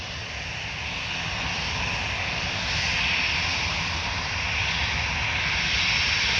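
Air France A320, registration F-HBNG, lining up for takeoff at Orly airport near Paris: a loud, steady jet-engine roar with a broad rushing hiss that swells slightly midway and holds constant throughout, with no voices.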